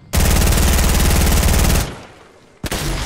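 Automatic gunfire in the Fortnite video game rattles in one loud, rapid burst lasting well over a second, then stops; after a short lull a single sharp shot follows.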